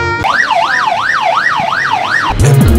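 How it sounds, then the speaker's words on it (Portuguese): Ambulance sirens wail loud and close in a steady rising-and-falling pattern at a student parade in Coimbra, then a lower horn-like tone breaks in at the end. "Ambulâncias."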